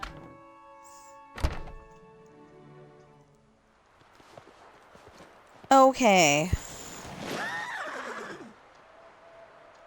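A horse in the Disney Dreamlight Valley video game gives a loud, close whinny after a hollow thunk and hoof clip-clops, with a person speaking briefly.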